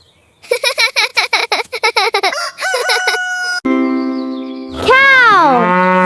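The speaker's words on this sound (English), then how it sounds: "This is a rooster." A rooster crows loudly and up close, with a long rising then falling cry following a burst of rapid, choppy calls.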